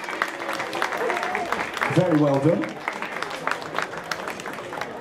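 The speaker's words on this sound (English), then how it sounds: "Give her a big round of applause, everyone." Applause and crowd noise for contestants at the final of a comic-con cosplay competition. The clapping fills the whole clip as a steady noisy wash, and a voice speaks over it briefly.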